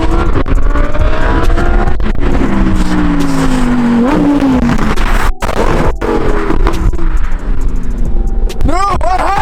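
A modded BMW 435i does a straight burnout on a slippery surface, its engine roaring loud and close with rising and falling revs and tire noise, while voices shout over it.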